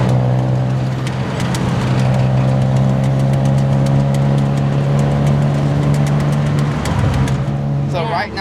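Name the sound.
tuk-tuk engine in Bangkok traffic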